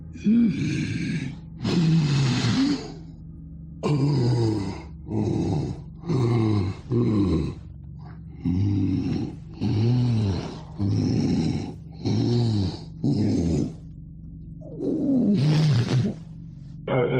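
A voice imitates the snoring, rattling last breaths of a dying creature, repeating about eight loud, rasping, guttural snore-like bursts at a slow, regular rhythm with short pauses between them.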